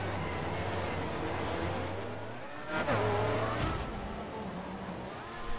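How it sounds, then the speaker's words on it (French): Racing cars at the Monaco circuit, a McLaren and a Ferrari, roar past close by with a loud engine drone, a sudden tire skid and a revving surge midway, engines continuing throughout. "DK qui colle dans les échappements de la Ferrari et passe au Sun Casino."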